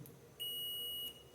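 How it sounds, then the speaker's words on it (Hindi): Multimeter buzzer sounding as a wire is shorted during a continuity check with motor winding tools; one steady, piercing tone lasting under a second, loud and close, with no talk over it. "ये बजर की आवाज़ है"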